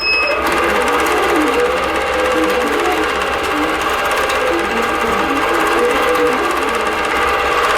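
A sewing machine runs continuously and loudly up close, stitching a quilt appliqué with a dense, steady mechanical rattle.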